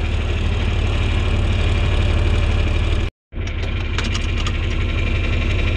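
Farm equipment idles in the rain while warming up, a loud, steady low engine drone that cuts out for a brief moment before resuming.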